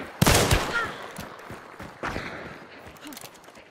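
Gunfire in Hunt: Showdown, a sharp close shot followed by a second report and faint rattling movement, with no talk.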